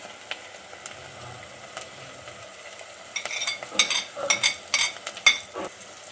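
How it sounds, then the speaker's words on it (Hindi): Chopped tomato and green chili going into frying onions, a quiet background sizzle followed by a burst of clattering stirring and scraping in the pan during the second half. "अब मैं इसमें शामिल करूँगी बारीक कटा हुआ टमाटर और हरी मिर्च।"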